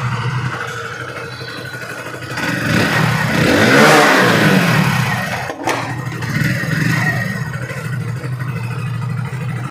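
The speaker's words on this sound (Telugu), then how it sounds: "Engine beat." A new Hero Passion Plus motorcycle idles close by with a steady, even engine beat, rising briefly as the throttle is opened and then settling back to a continuous idle.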